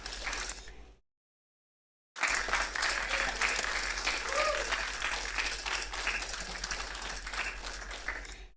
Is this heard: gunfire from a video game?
no